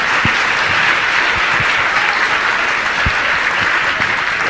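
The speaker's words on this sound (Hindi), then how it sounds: "आप लोग ताली बजाने में भी संकोच होता, बजाओ जम से।" A large religious gathering applauds donors in loud, continuous, dense clapping that holds steady and close throughout, with a few individual low thumps poking through the roar.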